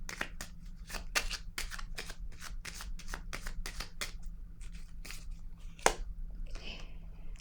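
Tarot cards are shuffled close by in quick, crisp riffles. The slaps repeat in irregular bursts, and a soft voice is briefly heard near the end.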